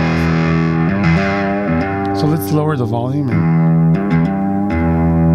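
Electric guitar played through a ProCo Lil Rat mini distortion pedal rings out with thick, sustained distorted chords and bent notes, loud and close, while someone talks over it.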